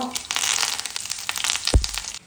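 Mustard seeds and curry leaves hitting hot coconut oil for a tempering over gooseberry chutney, a steady crackling fry with a sharp spluttering burst near the end, close by.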